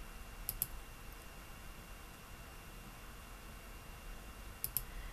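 Computer mouse clicks while selecting the page title field on a Wix website, two quick double-clicks near the start and another pair near the end, faint over steady low hiss.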